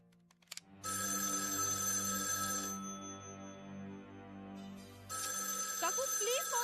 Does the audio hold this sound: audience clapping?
no